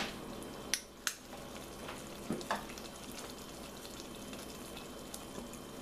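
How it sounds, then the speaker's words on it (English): A hot fudge frosting mixture with vanilla extract sizzles and bubbles quietly in a pan, with a few sharp clinks of a utensil against the pot. "Let it sizzle a little bit."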